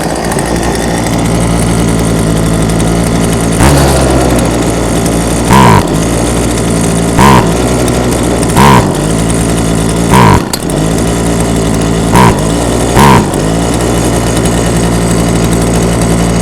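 An old chainsaw engine runs steadily during high idle adjustment, a loud continuous buzzing drone broken by several short sharp revving bursts at irregular intervals, close and alone.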